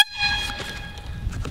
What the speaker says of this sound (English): for signaling people, I have an air horn.